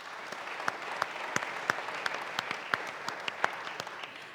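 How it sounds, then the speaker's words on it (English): Applause from a conference audience at an oil industry leaders' debate, greeting a South African energy and mines minister: steady sustained clapping from a sizeable crowd, with sharp individual claps standing out, no talk over it. "Please, can we have a round of applause?"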